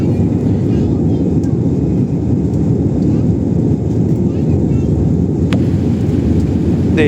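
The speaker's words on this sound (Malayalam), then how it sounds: "റൺവേയിൽ നിന്ന് വിമാനം ചലിച്ചു തുടങ്ങിയിട്ടുണ്ട് അപ്പോൾ ഏതാനും നിമിഷങ്ങൾക്കകം ഇത് നിന്ന് പറന്നുകൊണ്ട് വരും" A passenger airplane accelerates down the runway for takeoff, heard from inside as a loud, steady roaring engine rumble that fills the whole stretch, with a faint voice under it.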